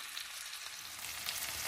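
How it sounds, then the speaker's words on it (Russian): Pounded chicken chops fry in a hot pan with a steady, faint crackling sizzle, continuous and even, with no voices. "Да, они очень быстро жарятся."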